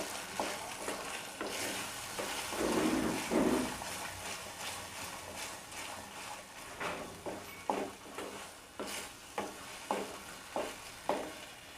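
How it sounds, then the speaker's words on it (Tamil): Chettinad kurma masala sizzles in a hot pan while a spoon scrapes and stirs it in repeated rhythmic strokes, close and moderately loud. "மசாலா பச்சை ஸ்மெல் போகிற அளவு நம்ம நல்லா வதக்கி எடுத்துப்போம்"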